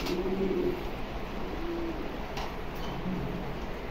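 Soft, low coos from a pair of exhibition homer pigeons repeat a few times over a steady background hiss, fairly faint and unhurried.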